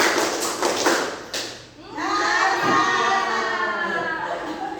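A classroom group claps hands a few times in quick succession near the start, and then a voice carries on over the room.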